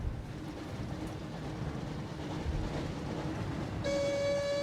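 A steady rumbling train in the Harry Potter and the Chamber of Secrets video game roars along continuously. Near the end, a sustained whistle or horn tone cuts in over the rumble.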